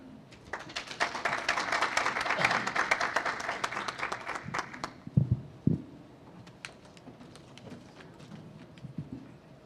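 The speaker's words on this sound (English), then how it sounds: "Just another round of applause" Audience applause at a live-streamed development talk, a dense burst of clapping for about five seconds that thins into scattered claps and a few thumps.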